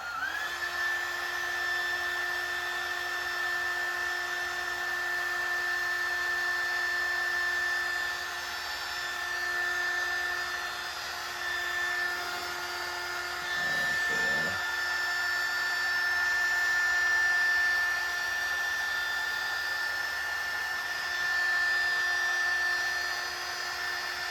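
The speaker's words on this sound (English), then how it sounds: "So now we got the heat gun going." A heat gun blows steadily inside a custom subwoofer enclosure during a box Chevy subwoofer install, giving a constant whining hum with a thin, high tone that never stops.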